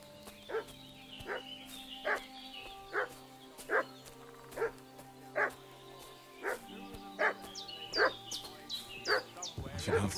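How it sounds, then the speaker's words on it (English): A dog in Kingdom Come: Deliverance II barks about a dozen times at a steady rhythm, fairly distant, over a low ambient hum. "What's that dog making such a fuss about?"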